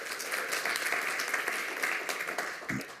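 A crowd applauds steadily and loudly throughout, a dense wash of many hands clapping with no pause.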